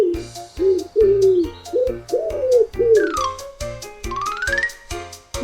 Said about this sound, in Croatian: Ova siva ptica guguče i leti po gradu.